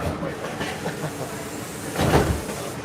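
A Walt Disney World monorail train at Magic Kingdom runs with a steady low rumble and hiss, and a louder clattering swell comes briefly near the end.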